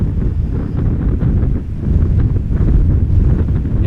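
Strong crosswind at Amsterdam Schiphol Airport buffets the microphone in a steady, loud low roar with gusty surges, with no talk.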